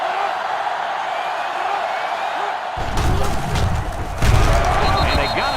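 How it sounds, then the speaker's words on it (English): A stadium crowd roars in the college football video game NCAA 06 during LSU versus Navy, a loud, continuous cheer that swells twice with thumping bursts. A commentator's voice runs over it. "And this crowd is going absolutely crazy."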